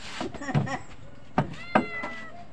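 A cat meows a few times at close range in a home kitchen where fish soup is being cooked, with someone talking nearby between the short calls.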